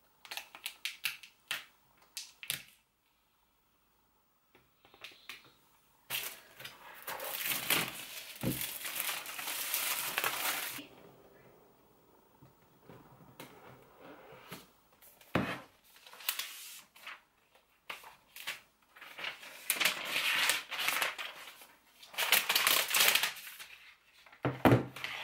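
Packaging on a 2020 MacBook Pro crinkles and rustles during unboxing, in close bursts of crackling and tapping clicks. Short silent pauses break up the handling.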